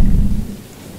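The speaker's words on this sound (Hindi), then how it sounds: "ओके सो अब बारिश शुरू हो गई" Rain and a low thunder rumble sound in the Choo-Choo Charles video game, loud at first and then fading within a second.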